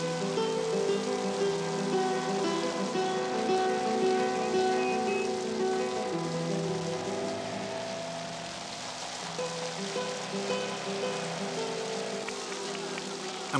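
Torrential rain pouring steadily during a 1974 Giro d'Italia cycling stage, a dense continuous hiss and patter filling the background with a faint murmur of voices underneath.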